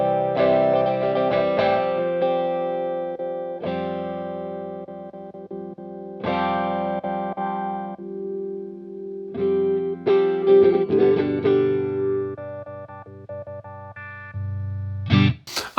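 Electric guitar notes and chords through the wah effect of a Zoom 505II pedal, with distortion and echo, played in phrases with pauses, close and fairly loud, no voices.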